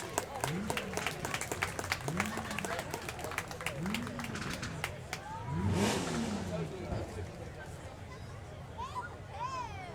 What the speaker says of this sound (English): please give the Mustang a round of applause